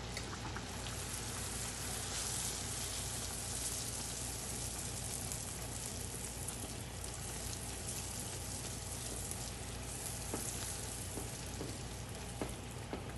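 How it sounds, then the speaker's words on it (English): Bhatura dough frying in very hot oil, giving a steady, dense sizzle and crackle that fills the whole stretch with no talk over it. "We want very hot oil for the bhaturas to puff. The oil is hot. We'll put the bhatura in."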